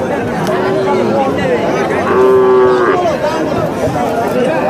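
Calves and cattle moo at a busy cattle market, with a few loud, drawn-out calls rising over a constant background of crowd chatter and voices.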